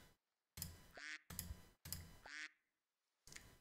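Cartoonish duck quacks from the video game Super Auto Pets come in three quick, clean bursts with brief gaps between them and another sound at the end, set against near silence.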